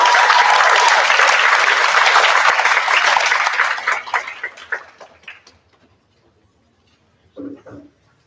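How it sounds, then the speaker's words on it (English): A symposium audience applauds loudly and steadily for about four seconds, then the clapping thins into scattered claps and fades out, with a brief soft sound near the end. "Let's give them a round of applause."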